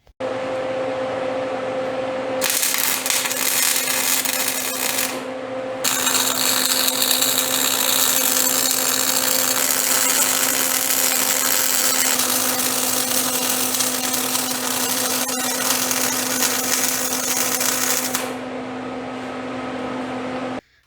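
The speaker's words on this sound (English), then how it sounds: "We'll go ahead and weld it on." Arc welding a safety chain loop onto a homemade trailer gooseneck: a steady buzzing, crackling hiss sounds in three long bursts separated by brief pauses, over a constant hum from nearby equipment.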